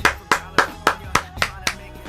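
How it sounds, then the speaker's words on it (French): Eight crisp hand claps ring out alone at a steady, even pace, each sharp and close with a short decay. "Alors là, je ne peux qu'applaudir."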